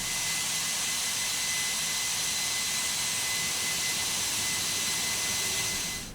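Jet engines of a Toliss A319 airliner taxiing in the X-Plane 11 flight simulator, a loud steady whine and roar held evenly throughout, with no voices, easing off slightly at the very end.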